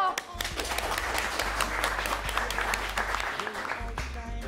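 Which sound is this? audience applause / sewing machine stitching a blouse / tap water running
audience applause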